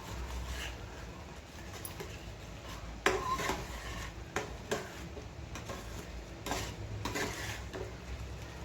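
Tomato chutney cooks in oil in a pan, a quiet, close sizzle broken by occasional clicks and scrapes of a spoon stirring against the metal.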